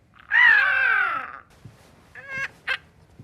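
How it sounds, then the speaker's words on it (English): A crow-like caw, one long harsh drawn-out call followed by two shorter clipped calls, loud and close in otherwise quiet surroundings. "She cursed Ferdy, leaving him only able to speak in bird sounds."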